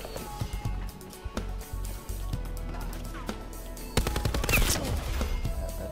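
A light machine gun fires in Black Ops 4, rapid bursts of gunfire and sharp shots amid game noise, with a louder dense burst near the end.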